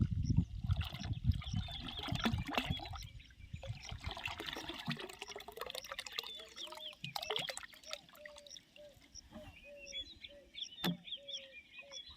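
Water trickling and pouring in short bursts outdoors on a farm, fairly faint, with birds chirping nearby and a few clattering handling noises.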